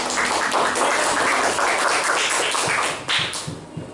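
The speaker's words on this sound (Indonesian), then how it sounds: "Luar biasa, sekali lagi tepuk tangan" A classroom of students applauds during a teaching practice session, with dense, steady clapping that holds evenly for about three seconds and then thins and fades toward the end.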